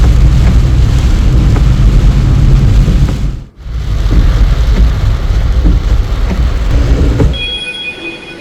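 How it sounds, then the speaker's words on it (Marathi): Heavy monsoon downpour in the Alandi area, a loud, dense steady roar filling the clip, briefly dropping out near the middle before resuming and then thinning toward the end. "परिसरातही मुसळधार पाऊस सुरू आहे"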